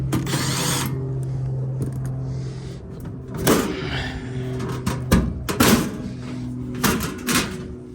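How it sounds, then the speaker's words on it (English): Screws being removed from the front cover of a gas furnace: a close, humming power driver with ratcheting and clicking bursts, metallic rattles and handling clatter under a steady low tone. "just gotta get off these screws so I can open up the front cover on the unit."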